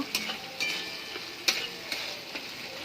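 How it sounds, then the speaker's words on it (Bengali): Cashew and melon seed paste stir-fried in spices in a pan for a doi katla fish curry, a soft frying sizzle broken by regular scraping clicks of a spatula roughly twice a second, close and with no talking. "এরপরে দিয়ে দেবো কাজু আর চালমগজ বাটাটা। ভালো করে নেড়ে চেড়ে এটাকেও কষিয়ে নেব"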